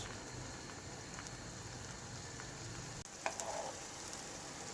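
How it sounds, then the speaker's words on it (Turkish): Steady, soft sizzling of Turkish muska börek pastries frying in hot oil in a pan, with a faint clatter partway through. "Muska böreklerimizi tavamızın içerisine alıyoruz ve kızartma işlemimize başlıyoruz."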